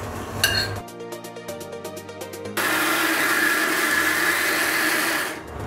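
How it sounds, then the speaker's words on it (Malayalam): A mixer grinder whirs loudly and steadily grinding semolina batter in its large jar, preceded by a brief clatter and rattling of the jar before the motor runs continuously. "ഇത് നമ്മുടെ മിക്സിയുടെ വലിയ ജാറിലിട്ടിട്ടൊന്ന് അരച്ചെടുക്കാൻ പോകുന്നു"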